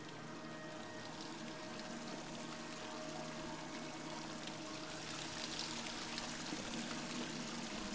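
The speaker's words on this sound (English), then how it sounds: "Distracted by little waterfalls." Small waterfalls in the video game Dear Esther give a steady, broadband rush of falling and trickling water that holds at an even level throughout, with no talk over it.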